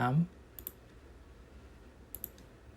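A computer mouse clicks during a computing lesson on Python operators: two quick double clicks, faint and crisp, spaced a couple of seconds apart over a quiet room after a brief voice.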